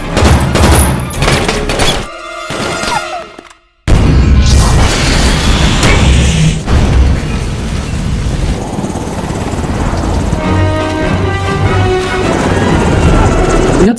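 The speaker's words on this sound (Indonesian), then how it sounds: "Jack melempar granat ke arah musuh untuk membuka jalan, menciptakan ledakan besar yang mengguncang area tersebut" Action-scene chaos with a grenade blast and a helicopter: loud crashes and impacts up front, a brief cut to near silence, then a huge booming explosion followed by a sustained roar of rotor and rumbling debris.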